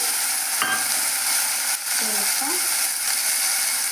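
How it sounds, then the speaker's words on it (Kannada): Onions and tomato fry steadily in a pan for a tomato sambar, a constant loud sizzle with a few scraping clicks of a spoon stirring through it. "ಈರುಳ್ಳಿನ ಚೆನ್ನಾಗಿ ಫ್ರೈ ಮಾಡ್ಕೊಳ್ರಿ"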